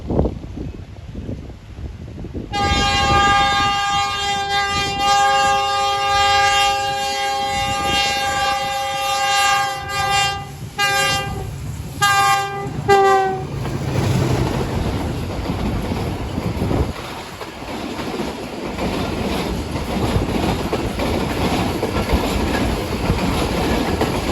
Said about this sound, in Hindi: बहाउद्दीन ज़कीर एक्सप्रेस